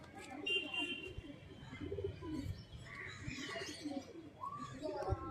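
Low coos from a male pigeon repeat softly nearby, with a few higher chirps and some indistinct voices in the background.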